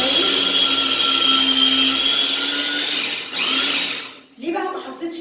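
A food processor whirs steadily as it minces garlic together with onion and rice, a loud continuous motor drone that cuts off near the end and then briefly restarts.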